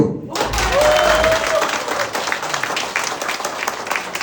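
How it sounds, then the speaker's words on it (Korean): Applause breaks out from an audience of party members at a Jeju City local committee meeting, a dense steady clatter of clapping that starts abruptly and holds throughout with a faint tone over it. "박수!"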